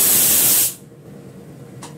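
A pressure cooker boiling arhar dal lets out a loud, close hiss of steam for under a second, then cuts off sharply to near quiet, with a couple of faint clicks at the end.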